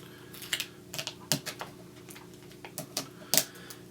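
A plastic drink lid on a bubble-tea-style herbal drink is scraped and peeled with a straw used like a knife, giving a series of sharp, irregular close-up clicks and crackles.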